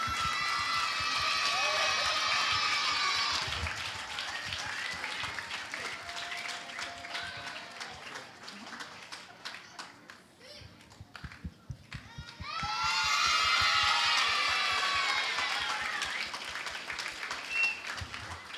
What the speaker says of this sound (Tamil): எல்லாரும் ஒரு பெரிய கரகோஷத்துடன் சொல்லுவோமா?